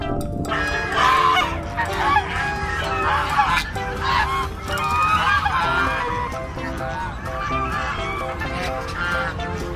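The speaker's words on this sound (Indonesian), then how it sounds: "Lihat, di sini ada angsa." Geese honk repeatedly and loudly, several birds calling over each other in a noisy, close flock.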